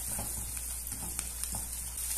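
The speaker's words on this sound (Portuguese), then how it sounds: "Vou dar uma misturada nos ovos" Eggs being stirred in a frying pan for cuscuz farofa, a quiet steady sizzle with faint scraping strokes of a utensil at intervals, close and alone.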